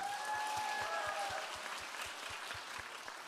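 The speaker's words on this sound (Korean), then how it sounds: "박수 한 번 더 줘야 되겠네" Applause at a Friday evangelism school gathering in a church, a dense crowd wash with a strong rhythmic clap beating under it and faint voices mixed in.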